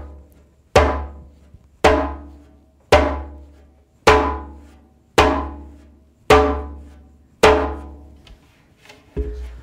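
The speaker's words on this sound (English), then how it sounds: "If the pitch is too low, the slap tone will just kind of die." Djembe slap tones with the drum tuned too low: seven evenly spaced sharp hits, each dying away quickly without ringing, close and alone, with a softer eighth stroke at the end.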